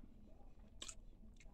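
Crunchy chewing of Lance lemon creme cookies, a few close, soft bites and crunches up near the mouth, with a sharp crunch in the middle and another near the end, otherwise quiet.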